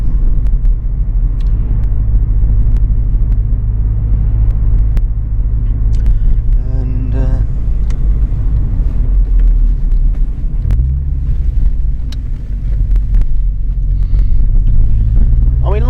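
A modified turbocharged Opel Astra Mk4 sleeper cruises along, its steady low engine drone and road rumble continuous throughout, with wind buffeting the microphone and a brief shift in tone partway through.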